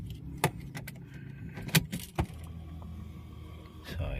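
Keys of a Porsche Panamera jangling, a few sharp metallic clinks and rattles spread over several seconds, close by with light handling noise between them.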